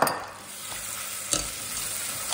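Butter hitting hot melted sugar for caramel, with a steady soft sizzle and frying hiss throughout and a few stirring scrapes, close and moderately quiet with no talking.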